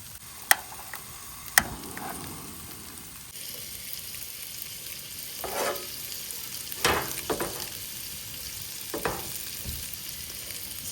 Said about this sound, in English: We're going to let our sauce simmer.